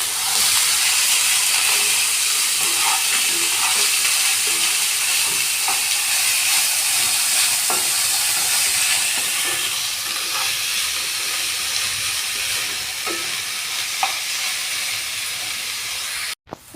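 Carrots and egg frying in a pan after salting, a steady loud sizzle and hiss running throughout with small stirring clicks.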